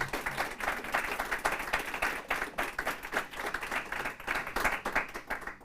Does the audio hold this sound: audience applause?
yes